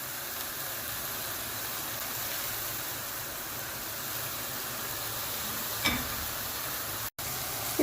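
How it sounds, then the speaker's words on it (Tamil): Hot mustard seed and shallot tempering poured into a pot of spinach kootu, giving a steady broadband sizzle and hiss throughout, with a brief burst near the end and a short cutout just after. "இப்போ நம்ம தாளிச்சதை எடுத்து நம்ம கூட்டிலே அப்படியே ஊற்றிடலாம்."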